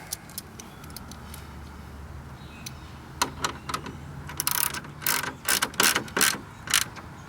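A ratchet wrench tightens a bolt on a Victory Vision motorcycle, giving quick clicking ratchet bursts that grow louder and more regular toward the end, close up with a faint background hum and no talking.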